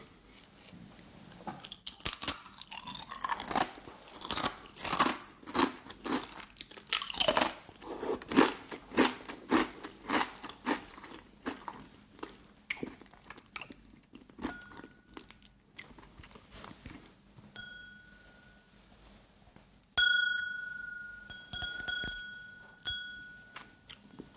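Crisp, crackly crunching from chewing potato crisps, repeated bites close to the mic, followed by quieter crunches and a few light glassy clinks of whiskey glasses.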